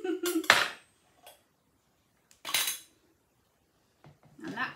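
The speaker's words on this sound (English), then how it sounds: "use the back of my table knife to push that lid off." Metal table knife prying a sealed lid off a partly filled glass jar in a home kitchen, giving sharp clinks and scrapes in short bursts separated by quiet pauses.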